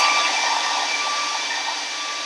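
A hair dryer blows steadily on a chalkboard drawing of a marshmallow, a close, even whooshing hum with no talking.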